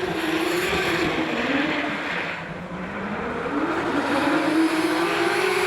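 A drift car slides sideways through the teardrop at Wellington Speedway in a D1NZ Pro-Championship qualifying run, its engine roaring steadily and loudly with rising and falling pitch and a broad, hissy tire rush underneath.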